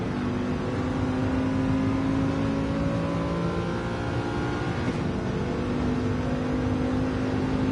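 Mercedes and Corvette GT4 racing cars flat out on a straight, a loud, steady engine drone with a sustained whine, close and continuous.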